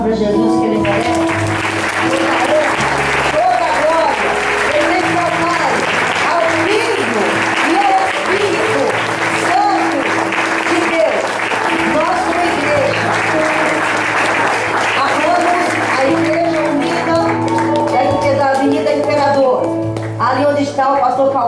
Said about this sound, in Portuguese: Palmas para Jesus, que Ele merece.